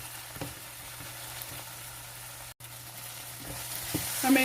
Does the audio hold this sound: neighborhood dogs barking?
no